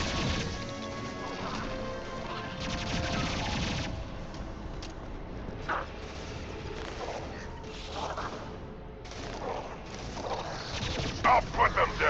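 Gunfire and crashing impacts in the Mass Effect 2 Collector Ship mission, dense bursts of shots with sharper cracks near the end, layered under game chatter and a constant background bed.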